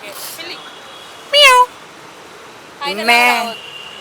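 A person mimics a cat's meow twice, first a short mew, then a longer drawn-out one, with quiet pauses in between.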